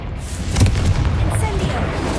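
A Confringo blasting spell goes off in the Hogwarts Legacy video game as a dense, rumbling boom that swells in the middle and lingers under continuous game noise.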